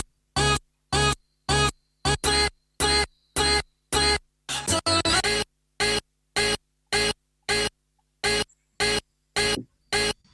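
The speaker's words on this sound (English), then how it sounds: "So I just took the part of the acapella and just spaced it out on different keys and just played it on the keyboard" A chopped acapella vocal sample, pitched up high and played across keyboard keys in Logic Pro for a trap beat, fires as short, evenly spaced bright stabs about twice a second, with one denser stuttering burst midway.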